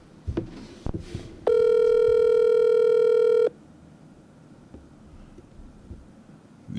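A phone line rings out during a call to a sports coach on a talk show: one steady, sustained electronic ringback tone of about two seconds, loud and clear, preceded by a few faint clicks and followed by quiet line noise.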